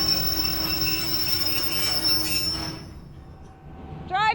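A train running on rails through Jordan gives loud, sustained metallic wheel squeal and rumble, fading out partway before a sharp rising squeal returns at the end.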